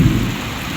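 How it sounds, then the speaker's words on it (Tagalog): Heavy rain pouring steadily with a deep rumble of thunder at the start, loud and close, a dense downpour with no voices. "malakas po ang ulan."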